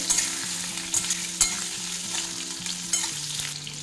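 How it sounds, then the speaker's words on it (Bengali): Potatoes fry and sizzle steadily in a pan for a masala bindi dish, a bright continuous crackle with a few louder stirring knocks and scrapes, close and with no voices. "এবারে আলুগুলো দিয়ে দেবো। আলুগুলো ভালো করে ভেজে নেব, নরম করে।"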